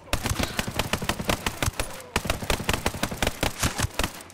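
416 Shorty assault rifle firing in the video game Ghost Recon Breakpoint, a loud rapid stream of automatic gunshots in sustained bursts with a brief pause near the middle.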